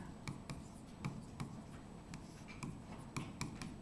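Something writes on a board during a child-development lesson, making a series of short, scratchy strokes and light taps in an irregular rhythm. The sound is fairly quiet and has no talk over it.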